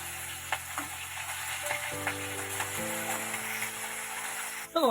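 Steady sizzling of small hilsa fish frying in hot oil, with a faint hum and an occasional clink of a utensil near the end.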